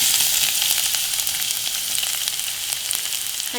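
Five or six small cloves of finely chopped garlic frying in a pan, with a steady, close, bright sizzle that lasts throughout and has no voices.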